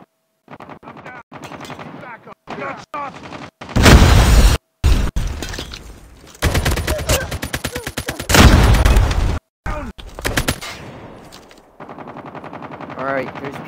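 Rapid automatic gunfire bursts in a Call of Duty match with an ASM-10 rifle, loud and close, alternating with short gaps and quieter stretches where a player talks.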